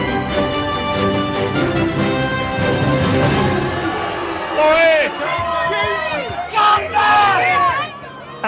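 Hostile crowd shouting and jeering at a politician declaring victory after the EU referendum, a loud sustained roar of many voices with whoops and cries rising and falling throughout.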